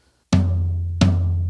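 A floor tom standing on legs beside a drum kit is struck twice, each hit landing with a deep, resonant boom that sustains and rings on, played alone and close up.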